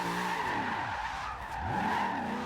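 Tires on a Subaru BRZ drift build squeal and skid continuously while drifting in Forza Horizon 2, with a steady loud screech over engine noise that dips briefly and resumes.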